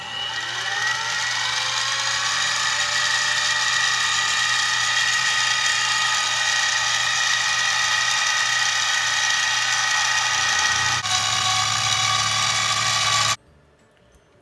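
Harbor Freight mini mill cutting metal stock, taking a 70-thousandths facing pass: a loud, steady whining cut with ringing tones that runs continuously for about thirteen seconds, then stops abruptly, leaving a faint low hum.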